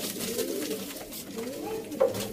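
Sialkoti Ali-wale pigeons coo close by in soft, low, rolling calls that repeat across the short stretch, with a slightly sharper note near the end.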